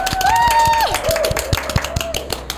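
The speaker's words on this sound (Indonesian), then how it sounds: "Tepuk tangan dong." An audience at a talk show for Denok Kenang Semarang finalists claps in a few sparse, scattered hand claps beneath a loud, sustained melodic tone that slides downward.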